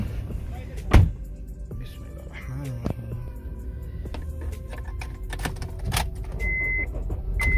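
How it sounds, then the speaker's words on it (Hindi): A car's engine is started right after its battery and terminals are replaced, with a brief loud crank near the start settling into a steady idle while someone talks over it. "अब मैं स्टार्ट करके चेक करता हूँ गाड़ी को"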